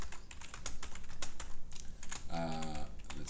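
Rapid clicking keystrokes on a computer keyboard while code is typed, fast and uneven, recorded close and quiet, with a person speaking briefly near the end.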